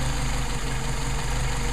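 A Mercedes 190SL engine on Solex carburetors idling steadily, a close, loud, even low rumble with a faint rhythmic pulse and no voices.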